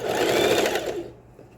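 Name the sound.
sewing machine stitching a cropped bra strap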